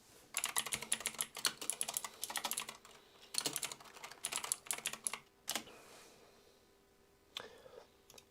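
Rapid clatter of keys on a computer keyboard, typed in quick bursts with short pauses between runs, close and fairly quiet, ending in a few scattered isolated taps.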